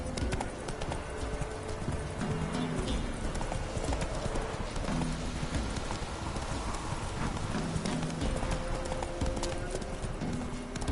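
Roach, Geralt's horse in The Witcher 3, gallops with fast, rhythmic clip-clopping hooves that sound close and continuous, over a hiss like rain.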